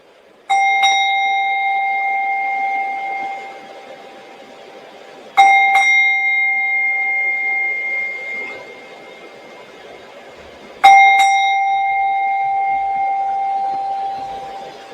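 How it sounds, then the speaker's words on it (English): A meditation bell struck three times, about five seconds apart, each clear ringing tone slowly fading in a quiet room. "we'll listen together to the sound of the bell"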